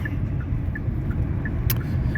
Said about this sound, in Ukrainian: Вроді все, машина їде.